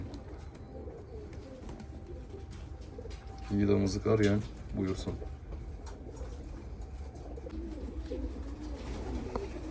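Fancy pigeons of Müsevet, Şam, Hünkari, Karyağdı and Modena breeds coo in short low bursts at moderate distance, with someone talking over and between the calls.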